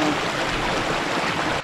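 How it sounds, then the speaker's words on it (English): A big waterfall in Whiteoak Canyon pours in a steady, broadband rush, constant and fairly near, with no voices. "I see a big waterfall, beautiful."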